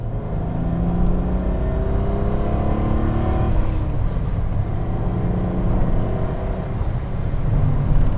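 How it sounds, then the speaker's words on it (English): A 1992 Lotus Carlton twin-turbo saloon accelerates hard from inside the cabin, its engine note rising steadily and climbing in pitch before a shift, then building again, loud and continuous. "the turbos spool up in a much more predictable and linear way than in that 911"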